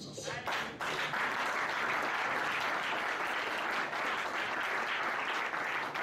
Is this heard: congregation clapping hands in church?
yes